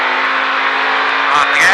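A race car accelerates on an oval track during a Richard Petty Driving Experience session, its engine a steady loud roar that builds and climbs in pitch toward the end, with a voice speaking over it.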